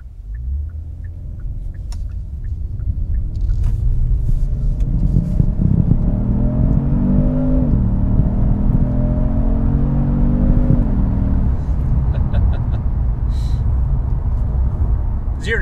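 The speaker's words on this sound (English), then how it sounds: "slamming the gas down, and holding on" A powerful twin-turbo V6 engine in a 2019 Kia Stinger GT2 RWD rumbles, then revs up and pulls hard through rising gears, loud and close, with a steady roar sustained to the end.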